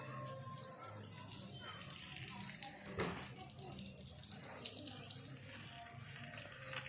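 Water runs steadily from a garden tap, a soft, continuous splashing that holds even throughout, with faint voices in the background.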